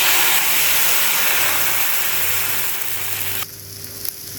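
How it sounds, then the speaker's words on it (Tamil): Rava dosa batter sizzles and crackles loudly on a hot cast-iron dosa griddle, a steady close frying hiss that drops abruptly near the end. "இப்போ தோசை ஊற்றலாம்."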